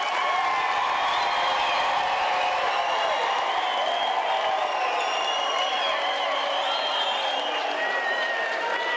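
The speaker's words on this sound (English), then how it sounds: "just to give them a round of applause" A standing graduation ceremony crowd at the University of South Africa claps for loved ones in loud, continuous applause mixed with cheering, whoops and chatter throughout.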